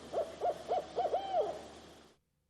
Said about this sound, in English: Pete hears a strange hooting sound. What is that? He wonders. That's just an owl.